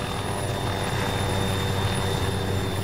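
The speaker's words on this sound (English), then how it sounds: "Well, Sandstorm's got a chopper" A helicopter from an online military video game flies past, its broadband rotor and engine roar holding steady and loud throughout with no voices.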